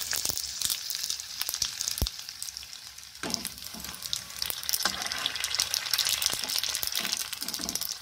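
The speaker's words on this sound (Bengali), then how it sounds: "এক পিস ভাজা হয়ে গেলেই অন্য পিস আপনা আপনি ফুলে ওঠে।" Fuchka puris deep-frying in hot oil, a steady close sizzle and bubbling with occasional sharp clicks and stirring rattles, no talk.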